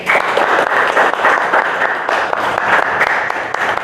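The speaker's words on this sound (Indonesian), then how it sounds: "Tepuk tangan buat kalian-kalian semua yang aktif" A classroom of students applauds their active classmates at the close of a lesson: steady, dense clapping, loud and close, filling the moment without talk.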